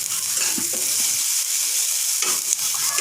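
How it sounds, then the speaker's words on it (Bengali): Ground chili and turmeric powder sizzle in a pan with a soft, hissing fry and a few brief scraping stirs, with a short lull in the middle. "এরপর সব গুঁড়ো মশলাগুলোকে একসাথে নাড়াচাড়া করতে হবে।"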